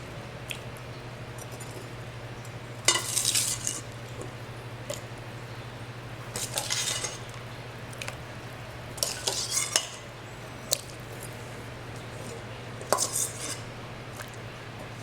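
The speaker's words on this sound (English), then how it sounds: "So I'm going to add the potatoes." Potatoes go into a pot of Trinidad-style fish broth, heard as a few close clanks and splashy knocks spread across a steady low hum, with quiet gaps between them.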